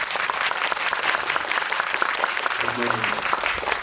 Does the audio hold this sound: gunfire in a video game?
no